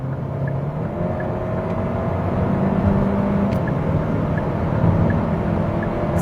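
2020 Hyundai Sonata with a 1.6 liter turbo engine accelerating, a steady, loud drone and road rumble heard from inside the cabin that holds a continuous level and builds slightly, with no talking.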